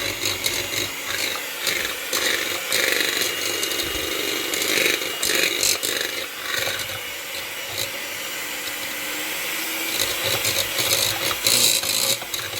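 Electric hand mixer beating eggs for Italian tiramisu, a loud, continuous whirring and rattling buzz with gritty mechanical texture, running steadily with slight shifts in intensity.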